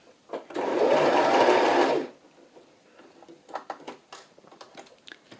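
A sewing machine stitching fabric for ruffles runs in one steady, close burst of about a second and a half, then stops, followed by light clicks and rustling as the fabric and pins are handled.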